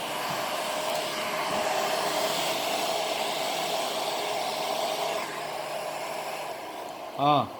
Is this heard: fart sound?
no